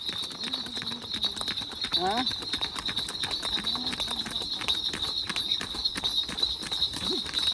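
Bulls pull bullock carts at a run toward a village fair, a rapid steady patter of hooves and rolling cart noise with a high ringing bell tone, voices calling out now and then.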